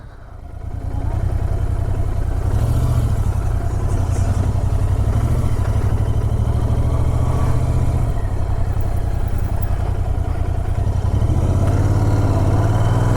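A motorcycle engine drones steadily and loudly throughout on a straight road near Chilapata, a low throbbing rumble with wind noise, as if riding along.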